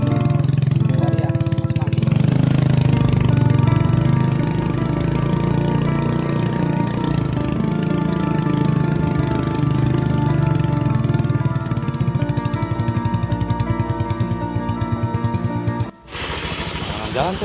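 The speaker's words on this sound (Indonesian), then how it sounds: "Jalan tuh motornya." A motorcycle engine runs steadily, close by, with a continuous buzzing drone that holds for most of the stretch before cutting off abruptly near the end, with voices talking over it.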